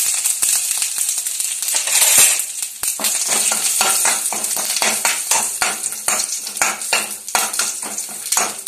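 Curry leaves and mustard seeds crackle and sizzle in hot oil, with dense spitting pops, scrapes of a stirring utensil against the pan throughout, close and fairly loud.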